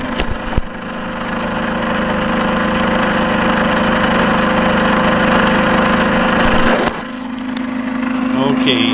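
An engine-driven generator runs at a steady, loud drone, its tone shifting abruptly near the end as the load changes after a lug is removed; a person talks over it briefly.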